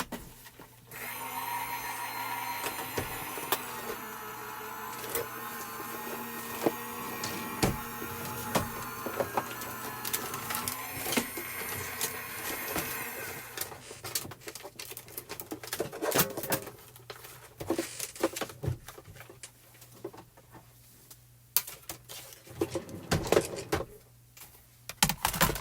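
A Spellbinders die-cutting machine cranks foil card through its plates with a steady mechanical whir and grinding, close and continuous, followed by scattered clicks and handling clatter as the cut piece is released.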